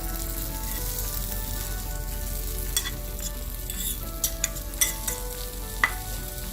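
Dosa sizzles in an oiled pan topped with cilantro lime trout, a steady close frying hiss with a few brief clicks and scrapes of a utensil.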